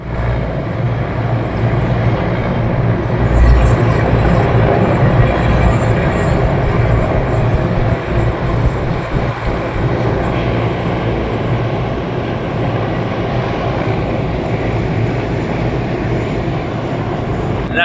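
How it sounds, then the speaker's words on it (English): Military helicopters pass over a parade in Hanoi, a loud, steady low rumble and drone that fills the whole stretch without letting up. "The helicopters. Yeah, they're going at it again."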